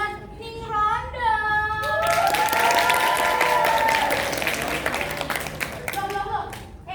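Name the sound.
audience applause for Ning Rondo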